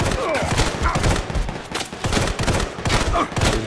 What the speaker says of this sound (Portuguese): Eu tava atirando o barril.